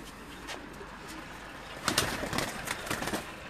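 Pigeons coo softly nearby in a low, hushed murmur, with a slightly louder cluster of calls and a light flutter partway through.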